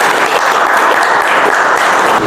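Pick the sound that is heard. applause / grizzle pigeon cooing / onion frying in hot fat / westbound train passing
applause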